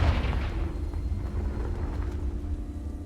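A Confringo spell explosion in the Hogwarts Legacy video game: a deep, rumbling blast that swells loud at once and then rolls on as a sustained low roar with a steady hum underneath, with no talk.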